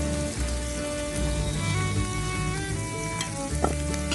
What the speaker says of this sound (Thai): แล้วก็ต่อจากนั้นก็ผัดต้นกระเทียมกับกุ้งให้สุกนะคะ